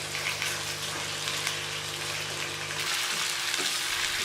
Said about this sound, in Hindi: इसको हम तेज़ आंच पे थोड़ा सा फ्राई कर लेंगे, यहाँ तक कि इसका थोड़ा सा कलर चेंज हो जाए।